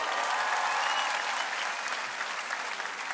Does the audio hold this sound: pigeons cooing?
no